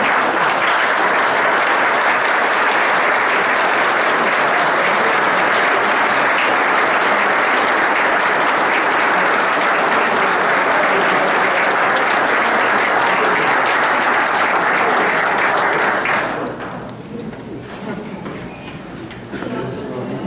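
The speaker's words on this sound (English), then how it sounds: "stand with me and applaud these incredible educators who give their life and their career to our students" Sustained loud applause from an audience honoring outstanding educators at a school board meeting, dense and even for about sixteen seconds before dropping away to quieter room noise and scattered claps.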